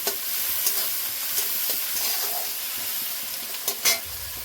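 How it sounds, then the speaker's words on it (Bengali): Onions fried in a pan with salt until reddish-brown, for ghugni; a steady broadband sizzle runs throughout with a few sharper spatula scrapes and stirring clatters, close and fairly loud, with no talking. "পেঁয়াজটাকে একটু লাল করে ভেজে দেবো।"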